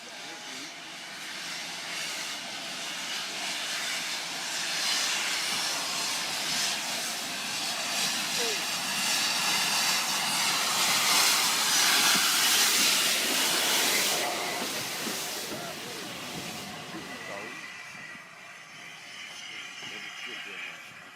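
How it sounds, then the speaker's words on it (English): Southern Railway U-Class steam locomotive 1638 leaves Horsted Keynes station on the Bluebell Railway with a sustained hissing rush of steam that swells and then fades over about twenty seconds. "As the locomotive departs the station at Horsted Keynes"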